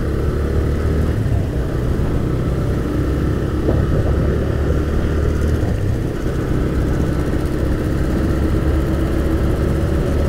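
A TVS Raider 125 motorcycle cruises along a road, its engine droning steadily and loudly close by, with constant wind rush over the whole stretch and no speech.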